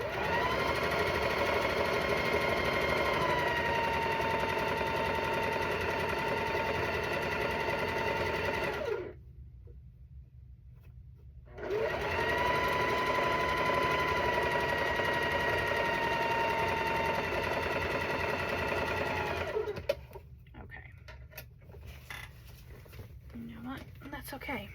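A sewing machine stitches rows of a cat quilt together in two long steady whirring runs, close and loud, separated by a brief pause and followed by quieter handling.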